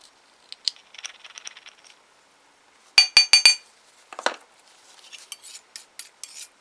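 Glitter stirred into acrylic mix in a small container gives scattered light clinks and rattles, with a quick burst of several sharp taps near the middle and softer clicks afterward, close by and with no voices.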